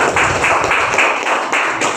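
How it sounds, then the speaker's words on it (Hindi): Audience applause for two guests at an event celebrating SSC GD 2023 results, a dense steady patter of many hands clapping close by for two seconds. "जोरदार तालियां इनके लिए।"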